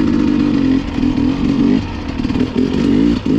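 Enduro motorcycle ridden through snow, ice and mud, its engine lugging loud and close in third gear with a steady low throttle drone that dips briefly and picks back up.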